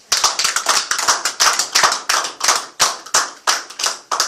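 A church congregation applauds during a French-language service, giving a lively run of sharp, close hand claps with brief uneven pauses and no voices over them.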